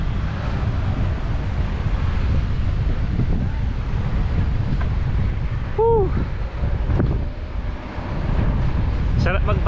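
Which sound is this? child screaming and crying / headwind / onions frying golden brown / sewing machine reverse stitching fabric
headwind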